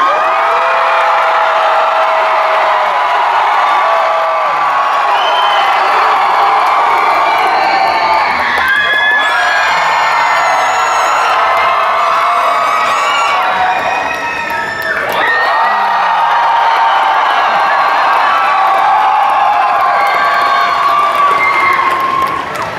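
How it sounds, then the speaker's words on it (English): A crowd cheers loudly for a contest winner, a sustained wash of shouts, whoops and children's yells rising in swells with no pause. "I would like you to cheer for who you would like to have be the winner"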